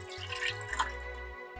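Soy sauce pouring into a medium saucepan while making spicy General Tso's wings, a soft dripping, trickling liquid sound lasting a moment, fairly quiet and close with no talk over it.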